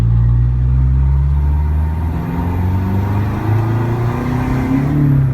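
A Toyota Vigo Champ 2.5 turbo pickup with a freshly fitted bigger turbo and remapped tune revs at half throttle, a loud, close, deep engine drone rising and falling in pitch over several seconds with no talking.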